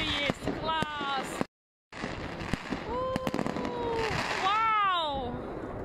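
New Year's fireworks crackle and pop continuously with sharp bangs in Ryazan, while excited voices exclaim and shout over the noise nearby.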